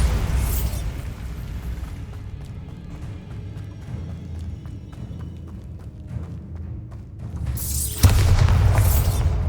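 Bombarda blasting spell in the Hogwarts Legacy video game, a deep booming explosion that hits near the end after a low rumbling stretch, with a burst of debris noise at its onset and again at the start.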